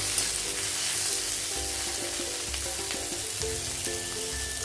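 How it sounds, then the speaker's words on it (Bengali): Noodles with long slices of tomato are stirred in a hot pan, giving a steady frying hiss broken by soft scrapes and light clatter, with no voices. "এটাও নাড়াচাড়া করে নেবো ভালো করে"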